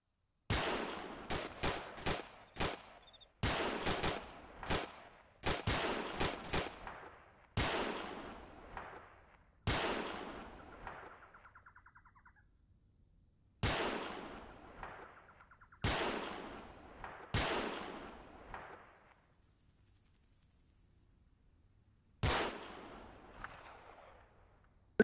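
Loud, sharp gunshots from a military shooter game ring out in spaced bursts and single cracks over about twenty-five seconds, each one trailing off into a long echoing decay, with quiet gaps in between.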